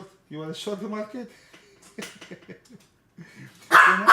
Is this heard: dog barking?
yes